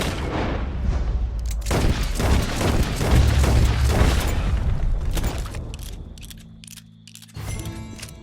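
Gunfire in Red Dead Redemption 2, a cluster of loud, booming shots and impacts close together over the first few seconds, trailing into quieter rumbling and ambient game noise, with no talk.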